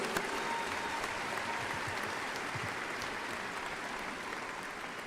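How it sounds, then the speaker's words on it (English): An audience at the Biloxi High School graduation ceremony gives a round of applause, a steady, far-off wash of many hands clapping that holds evenly and softens slightly toward the end. "Please give them a round of applause."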